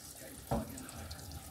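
Tap water runs into a kitchen sink during cooked-breakfast preparation, a steady splashing stream with a brief louder gush near the start.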